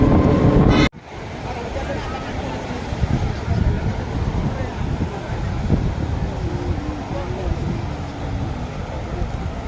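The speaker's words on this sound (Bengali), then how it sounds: "ঢেউটা বেশি।" Sea waves roll onto the beach at Cox's Bazar as a continuous loud wash of surf, mixed with gusting wind buffeting the microphone, after a brief abrupt cut near the start.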